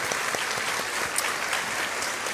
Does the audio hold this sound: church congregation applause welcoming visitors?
yes